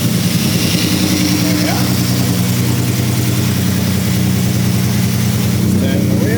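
A Barra engine in a C1100 International pickup runs at a steady idle, a loud close low hum with a rough mechanical texture, while someone speaks briefly over it.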